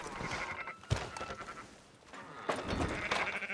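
Sheep in the video game Red Dead Redemption 2 bleat several times, with two louder calls standing out over softer background bleats from a herd.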